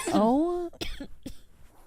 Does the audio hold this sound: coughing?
yes